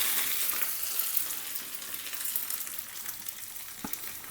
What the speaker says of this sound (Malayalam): 2-3 ചെറിയ ഉള്ളി എടുത്ത് കൂട്ടത്തിൽ കുറച്ച് കരിവേപ്പിലയും ഒരു 1-2 ചുവന്ന മുളകും കൂടി ചേർത്ത് നമുക്കിതിനൊന്ന് താളിച്ചെടുക്കാം.